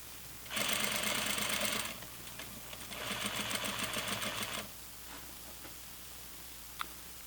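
A sewing machine sews flannel pajama pants in two steady, fairly close runs of rapid stitching separated by a short pause, then falls quiet apart from a faint click near the end.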